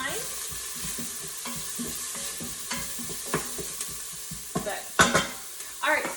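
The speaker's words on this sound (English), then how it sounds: "So I'm gonna stir this one more time." Refried beans cooking in a pressure cooker pot, stirred with a utensil: a soft sizzle runs under repeated scraping strokes, and the clatter grows louder and busier toward the end; close by, with no voices.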